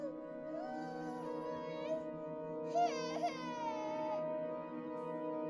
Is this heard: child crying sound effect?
yes